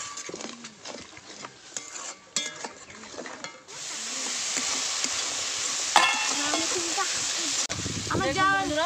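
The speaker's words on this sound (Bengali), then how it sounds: "এবার জল দিয়ে ভালো করে মশলা কষিয়ে নেব।" Turmeric, cumin and chilli powder are sautéed with water in a pan for a pabda fish curry, a rushing sizzle rising after scattered clatter, with a spoken voice over the frying.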